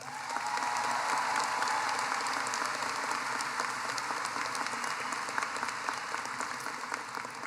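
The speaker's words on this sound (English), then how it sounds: "Graduates and guests, please give the entire team at Seckman one last round of applause." Graduation ceremony audience applauding at a high school commencement, a broad, sustained wash of many hands clapping from a large crowd, steady and somewhat distant throughout.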